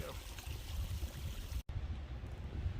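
Flowing stream at a trail water source on the Appalachian Trail, a faint steady wash of running water with a brief cutout near the middle.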